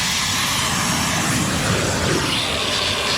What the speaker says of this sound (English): get the grinder and just grind that smooth bit off.